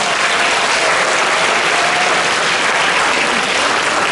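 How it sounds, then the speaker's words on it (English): A school assembly audience applauds at a student council event, a dense, steady wash of many hands clapping close by, loud and unbroken with no talk over it. "Let's give everyone a big round of applause"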